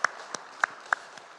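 A church congregation claps in celebration during a Sunday worship service: a few sparse, separate claps spaced across a brief moment, faint and thin rather than a full round of applause.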